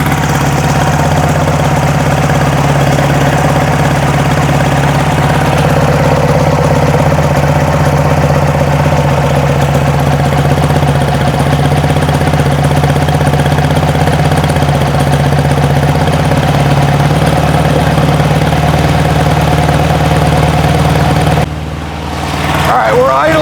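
A 1972 VW Beetle with a dual carburetor setup idles in a steady, close, even drone with a faint knocking texture, holding unchanged until it suddenly dips near the end.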